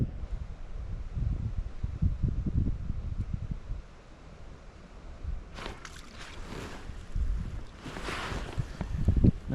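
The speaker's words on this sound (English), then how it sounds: "The freaking wind is unbearable." Strong gusty wind buffets the microphone on a boat out on the St. John's River, rumbling in uneven low bursts with brief hissing flurries, loud and close with no talking.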